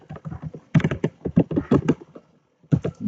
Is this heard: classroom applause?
no